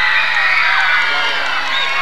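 A crowd cheering and girls screaming for a rap group winning a 1991 rap contest, a loud continuous wash of high-pitched shrieks and applause.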